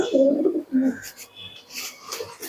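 A pair of Malbai pigeons coo close by in a couple of short throaty bursts, followed by faint rustling and a brief higher chirp.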